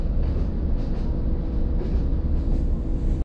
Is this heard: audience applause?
no